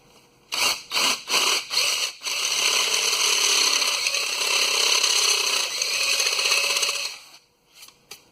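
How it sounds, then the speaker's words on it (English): Several short bursts of a power drill, then one long steady whine as it bites through the thin metal casing of a Solary SD308 smoke machine, through a sticker, stopping with a couple of brief blips. "I'm going to drill right through the sticker"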